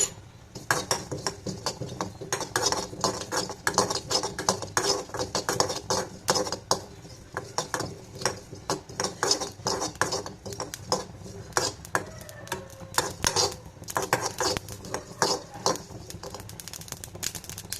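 Cumin seeds dry roast in a pan while being stirred for a tamarind rice dish, with a steady run of close, dry scraping and light metallic clinks from the utensil against the pan, and no talking.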